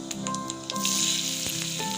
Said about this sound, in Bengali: দিয়ে ভালো করে ওটা ফুটে উঠলে ওতে কুচিয়ে রাখা পেঁয়াজটা দিয়ে দেব।